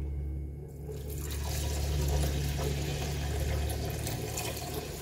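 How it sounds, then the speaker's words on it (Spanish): Water pours steadily into a pot of long-grain white basmati rice, a continuous close splashing rush that starts after a brief quiet moment, with no talk. "ahora le echamos el agua"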